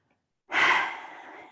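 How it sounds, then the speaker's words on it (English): A single slow, audible exhale during a yoga relaxation, breathy and close, starting abruptly and fading gradually over about a second with no talking. "you can return to a normal breathing or a breathing that you're not controlling"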